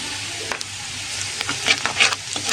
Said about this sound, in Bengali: রসুন কুচি, দিয়ে সুন্দর করে লাল লাল করে ভেজে নেব।